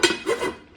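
A lid settles onto a pot of Mexican beef stew with a brief metallic clink and a short rattle that fades within a second.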